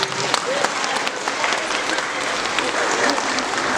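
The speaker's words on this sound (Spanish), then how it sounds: "Y les damos un fuerte aplauso" Wedding guests applaud loudly after the kiss, a thick continuous wash of clapping with scattered voices murmuring underneath.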